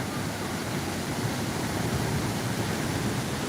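Strong, swollen flow of the Malan river after upstream rain, a steady broadband rush of water with no break, loud and close, like a torrent pouring over rocks.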